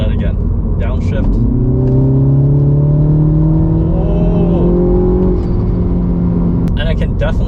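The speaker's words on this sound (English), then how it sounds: "I can definitely hear more of the engine noise and intake noise and turbo noise coming from the front" A 2023 Mini Cooper S pulls hard under load, its engine, intake and turbo rising in a steady climbing drone with whirring harmonics, loud and continuous inside the cabin, then easing off before a brief shift near the end.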